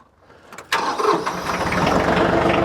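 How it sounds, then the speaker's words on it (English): A TYM tractor fitted with a three-point backhoe cranks briefly and fires up, then settles into a steady, loud idle right next to the listener. "So I'm gonna go start the tractor"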